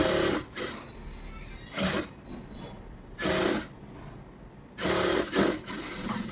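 Sewing machine stitching a lining blouse body piece in four separate bursts of rapid, loud, close-up running, with quiet pauses in between.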